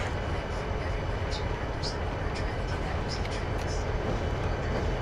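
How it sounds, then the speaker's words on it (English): A model train rumbles and clatters steadily along the rails through a rail yard, with faint high squeals and clicks over a constant running noise. "try to keep this train moving"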